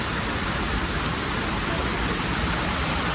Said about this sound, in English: For our final waterfall, this is Greenacre Park.